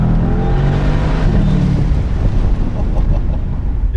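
A 2019 Bentley Continental GTC V8 convertible accelerates hard: a loud, close engine roar builds steadily over four seconds, mixed with heavy wind buffeting.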